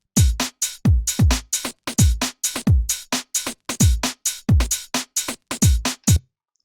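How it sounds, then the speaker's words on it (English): UK garage drum beat with an offbeat ghost snare, punchy kicks and snappy snare hits in a tight, swung repeating pattern, loud and dry, ending abruptly. "every single tune has that offbeat ghost style sort of snare which sounds like this."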